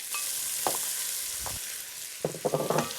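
Onions and red peppers frying in a pan for chicken cacciatore, a constant bright sizzle with a few soft stirs and a cluster of quick clatters near the end, close up and without talk.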